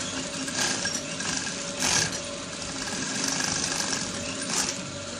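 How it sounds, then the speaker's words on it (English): A sewing machine stitches elastic onto the back panel of a pair of trousers, a steady mechanical whirr running throughout with small surges in intensity, close and alone with no voices. "we're trying to sew the elastic"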